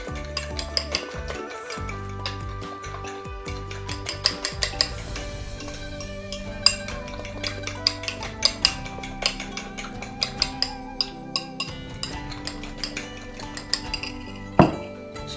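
Ampalaya (bitter gourd) with onion and egg being stirred in a pan with a utensil, giving repeated metallic clinks and scrapes against the pan in an irregular rhythm, close and fairly loud, with no talking.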